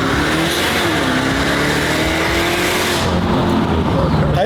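Koenigsegg Agera supercar exhaust droning steadily as the car drives on an open road, a loud, continuous engine note heard from inside the cabin with a rising tone and road noise.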